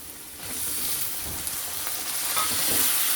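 Tomatoes, curry leaves and green chilies frying in a pan for an egg curry, a steady close hiss of sizzling oil with faint stirring, unbroken and fairly loud throughout, no voices.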